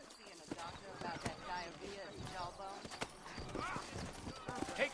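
Video game horses' hooves clip-clop steadily at a walking pace while people talk over them, with a whinny breaking through near the end.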